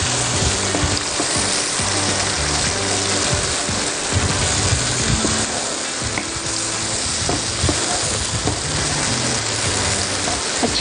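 Tomato paste frying with coriander powder and other spices in a pan gives a loud, continuous crackling sizzle, close and steady throughout with faint scraping.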